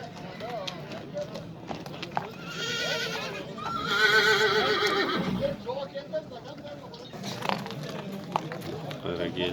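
A horse neighs loudly at a livestock horse market, a drawn-out whinny rising over crowd chatter and hoof clip-clop, with people talking throughout.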